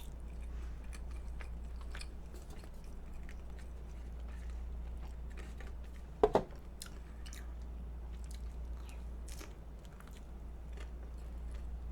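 Someone bites into a walnut-flavored coffee bean bread, giving one sharp, close crunch midway through an otherwise quiet stretch of soft mouth noises and faint clicks, with no talking.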